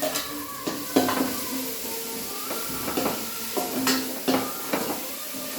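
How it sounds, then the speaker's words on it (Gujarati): Garlic sizzles in hot oil over low heat as onion is added for a Kathiyawadi tempered rotlo, with a steady close fry punctuated by sharp clinks and scrapes of a spoon stirring against the pan. "લસણ બ્રાઉન થાય એટલે આપણે એડ કરીશું અંદર ડુંગળી."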